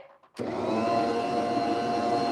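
An electric stand mixer starts abruptly and runs with a steady, loud whir while cookie and cheesecake batter is prepared for baking, with no talking.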